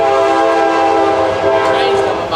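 A passing train sounds a loud, sustained horn with steady, rich harmonic tones, dominating the scene close by at a garage where people work on a vehicle.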